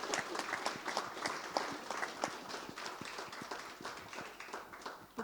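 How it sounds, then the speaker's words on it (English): Audience at a soil health conference giving a round of applause, a soft, somewhat distant patter of scattered clapping that holds steady, then tapers slightly. "quick round of applause maybe for those three folk in particular"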